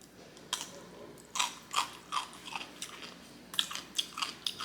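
Crunchy chewing and biting while eating black bean noodles with radish, a string of close, sharp crunches in an irregular rhythm with short pauses between bites and no talking.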